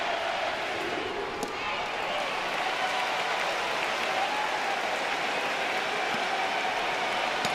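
Baseball crowd roaring at a college game between LSU and Oklahoma, a steady, dense wash of cheering and applause at a late-inning, bases-loaded moment, continuous and fairly distant with no break.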